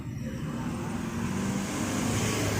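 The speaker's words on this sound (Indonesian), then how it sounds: "Sebentar, ada kendaraan lewat." A motor vehicle passes along a road as a steady, broad rumble of traffic noise, moderately near and continuous throughout, with no talking.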